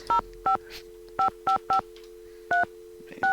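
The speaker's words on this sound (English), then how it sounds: "Let's call Bill, see if he wants to play a game of Fox and Geese." Telephone keypad tones in a Nancy Drew video game: eight or so short, evenly loud touch-tone beeps dialed in an irregular rhythm, crisp and close, with no talking.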